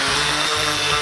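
A power sander works across a glued solid-wood cutting board, giving a steady, loud broadband whir with a slight rhythmic pulsing, close up and without talk.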